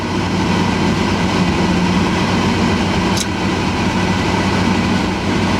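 A Chevy Express van fitted with a swapped-in 6L90E transmission cruises at speed, giving a steady, loud rumble of engine and road noise inside the cab throughout, with no talking.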